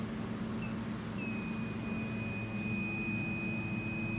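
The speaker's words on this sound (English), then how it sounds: "it'll beep if it detects continuity" A multimeter's continuity tester gives a continuous high electronic beep, starting about a second in and holding steady to the end, over a low background hum.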